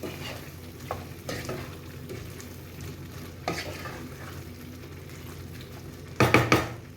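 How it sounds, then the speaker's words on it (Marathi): Marinated prawns and potatoes are stirred in a frying pan for prawn biryani, with a steady sizzle underneath and scraping strokes, ending in a few louder clanks of the utensil against the pan. "आता आपण इथे मॅरिनेशन करून ठेवली होती कोळंबी आणि बटाटे, ते आपल्याला यामध्ये घालायचे आहेत. हे पुन्हा एकदा व्यवस्थित मिक्स करून घेऊ."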